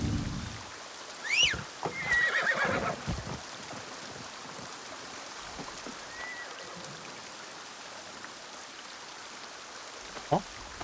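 A horse whinnies in Assassin's Creed Shadows, a clear neigh rising early and fading, followed by a quiet outdoor game ambience with a soft trickle of water and one brief thump near the end.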